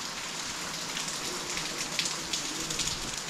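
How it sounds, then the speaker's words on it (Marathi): Steady morning rain falling in the mountains near Manali, a continuous even hiss of drops with faint scattered patters, heard alone at moderate level. "सकाळी सकाळी पाऊस चालू झाला"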